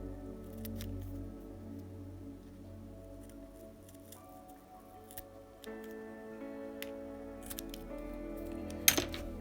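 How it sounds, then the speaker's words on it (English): Scissors cutting material for a Tamiya Toyota Hilux Extra Cab model build, a few quiet close snips and ticks over a low steady hum, with no talk. "if you grab the scissors, and I'm going to cut this a little less than"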